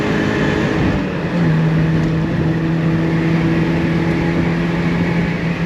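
A 1990 Mazda Miata MX5 engine while driving, a steady droning hum with a sustained tone that rises slightly in pitch as the car pulls, loud and continuous with road noise and no talk.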